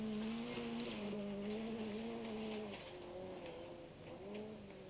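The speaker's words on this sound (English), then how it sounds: "it's only a front-wheel drive car, that Peugeot" A Peugeot 309 GTI front-wheel drive rally car drives at the 1991 ADAC Rallye Deutschland, its engine holding a steady loud drone that dips slightly partway through, over broad road and wind noise.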